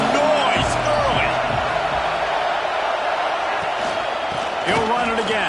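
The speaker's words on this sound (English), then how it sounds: "This crowd bringing the energy and noise early." Stadium crowd in the College Football 26 video game gives off a steady, dense roar through the whole stretch, with a commentator talking over it.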